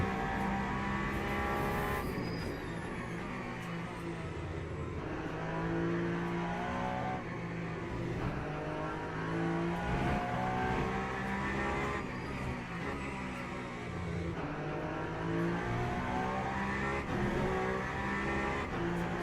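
A race car in a sim racing game understeers and brakes, its engine droning steadily and changing pitch over a wash of tyre and road noise, loud and continuous with no talk.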